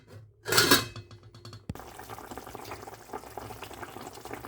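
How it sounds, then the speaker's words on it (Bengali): A lid set onto a pot of simmering dried-fish curry gives a brief clattering rattle and a clunk, followed by a soft, steady bubbling simmer underneath. "আমি আবার ঢাকনা দিয়ে দেবো।"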